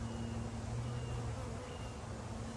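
Honeybees buzz around a newly installed nuc hive, a continuous close, steady drone with a low hum underneath and no speech.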